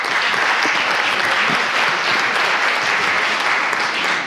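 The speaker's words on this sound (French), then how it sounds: "On peut tous les applaudir." Dense, steady applause fills a festival screening hall as the audience claps for a nominated communication film, loud and continuous throughout with no voices.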